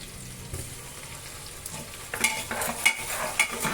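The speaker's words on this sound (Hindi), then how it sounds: "लहसुन भी मैंने बहुत अच्छा सारे कद्दूकस करके रखा है। अब इसको मैं थोड़ा सा चला लूँगी" Grated garlic frying in a pan and being stirred, with a steady sizzle and scraping sounds that get louder and busier in the second half, with no talking.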